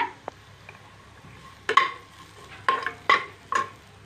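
Chicken roasting in a pan for hotel-style chicken kola urundai, stirred with a spoon: a low sizzle runs under several distinct scraping, clinking stir strokes, close and fairly quiet, with no talking.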